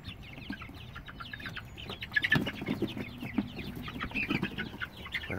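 A flock of five-week-old chicks on a small poultry farm clucks and chirps continuously, close by, with overlapping calls and some soft rustling.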